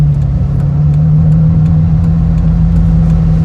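A Bugatti Veyron hypercar engine runs steady and loud while the car slowly turns in to park, a constant low droning hum with no clear revving, and no talk over it.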